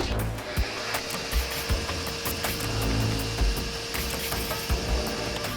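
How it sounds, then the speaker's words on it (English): Power sander working wood on a portable downdraft box sanding station, a steady close whirring grind with scratchy rubbing and small bumps as the sander shifts over the surface. "use a sander on it"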